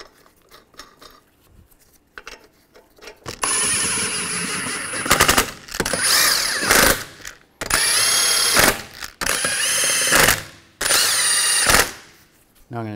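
A power tool drives lug nuts onto the rear wheel of a 2011-2021 Jeep Grand Cherokee in a shop, giving four or five loud, close, rattling bursts separated by short pauses.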